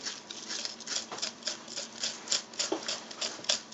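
Fresh corn kernels scraped off the cob with a blade, a close series of short, rhythmic rasping strokes repeating steadily, with no talking.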